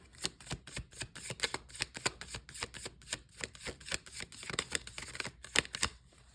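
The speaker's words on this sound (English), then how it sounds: "Last shuffle." A deck of cards shuffled rapidly, a steady run of crisp riffling snaps and flicks, close by with no talking.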